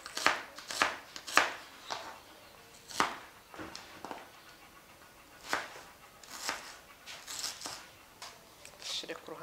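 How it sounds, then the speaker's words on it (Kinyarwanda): A knife chops an onion finely on a board in irregular bursts of crisp, close cuts, some quick runs of strokes and some single chops, with short pauses in between. "Tunguru ndakata buto butoya"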